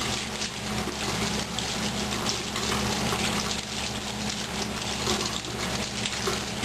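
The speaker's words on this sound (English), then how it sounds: "Place it under running water and gently rub." Running tap water pours steadily over a fire-roasted chile as its scorched skin is rubbed off under the stream, a continuous close hiss and splash with no talking.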